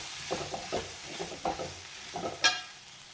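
Spoon stirring coriander and turmeric powder through a hot pan for Kerala egg roast: a series of close, uneven scraping strokes with a faint frying sizzle beneath and a sharper clink near the end.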